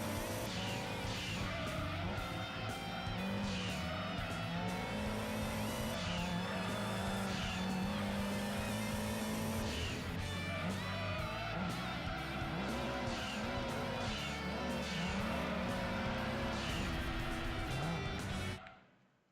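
A race car in the video game Gran Turismo 2 drives hard, its engine revving up and down loudly with repeated tyre squeals and skids, nonstop for close to twenty seconds before cutting out suddenly.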